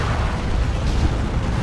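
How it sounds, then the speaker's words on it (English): Explosions from Chosen Plague Marines going off in the strategy game Dawn of War 2, a dense, continuous rumble of heavy booms and bursts that stays loud for the whole span with no talk. "Taking explosions off the Chosen Plague Marines"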